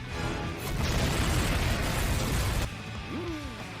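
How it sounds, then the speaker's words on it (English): A loud, roaring explosion from the Bleach anime fills the scene for about two seconds, then cuts off abruptly and leaves a quieter background with a short gliding tone. "Causing an explosion, but that explosion gets really abruptly cut off."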